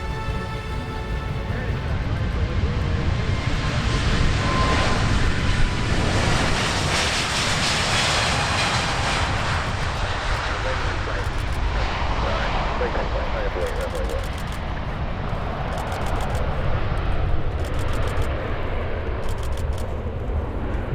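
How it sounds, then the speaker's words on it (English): A Delta Airbus A350-941 airliner flies over at the EAA AirVenture Oshkosh 2023 airshow, a broad continuous engine roar that holds steady and loud for the whole stretch, with a voice talking over it. "Delta sent one of the largest aircraft in its fleet, an Airbus A350-941"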